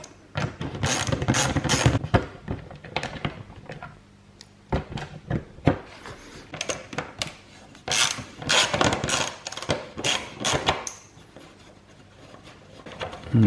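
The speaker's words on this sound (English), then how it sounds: "it says to undo the lower bolts on the radiator shrouds" Short bursts of ratchet clicking come close up as the lower 8mm bolts on the radiator shrouds of a Yamaha Tenere 700 are undone, separated by quiet pauses and light metallic handling.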